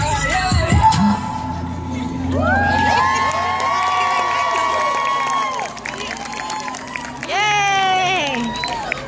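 Parents and audience cheer, whoop and applaud after a children's Halloween hip hop class recital, with a loud burst of shouting that stays sustained, dips, then rises again near the end, high children's voices prominent.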